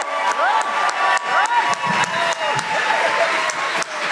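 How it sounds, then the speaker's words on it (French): Gong Show studio audience welcoming a guest judge with loud cheering, whoops and sustained applause, a lively crowd roar with shouts rising over the clapping. "faites un maximum de bruit pour Francis Legendre!"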